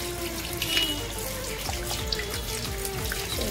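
Fish being washed under a running tap in a kitchen sink: a steady splashing stream of water with small drips and trickles, close and fairly quiet, with no talking.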